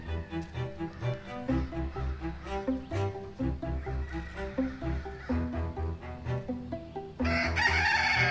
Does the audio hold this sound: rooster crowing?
yes